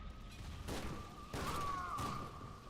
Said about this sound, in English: I'm throwing 100 grenades